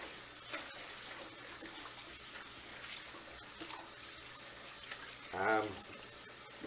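Polk salad greens are washed under running water in a kitchen sink, a steady close splashing and hiss from start to finish with one brief louder swell near the end.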